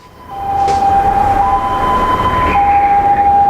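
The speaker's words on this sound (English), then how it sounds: "A solitary ambulance, the siren blaring almost helplessly in the distance in a ghost town of Wuhan in China." An ambulance siren in a deserted city of Wuhan, China, holds long steady tones with a brief shift in pitch, rising from quiet to loud and staying prominent over a low background rumble.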